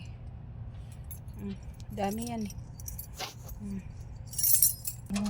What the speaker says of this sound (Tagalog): ang dami kasing klase ng susi